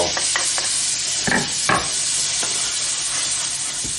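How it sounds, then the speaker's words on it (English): Garlic and bacon sizzle in a pan with a steady bright hiss, punctuated by a few sharp crackles and stirring scrapes, close and uninterrupted. "So we got this going in the pan. I think it's time to throw our garlic in."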